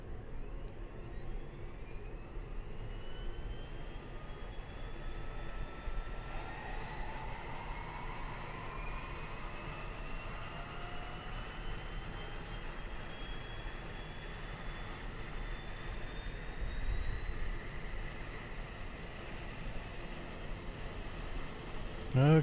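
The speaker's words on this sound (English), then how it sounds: "See if we can start the right engine." An aircraft's right engine spools up and settles into a steady, moderately quiet drone, a rising whine drifting upward over a constant low rumble throughout.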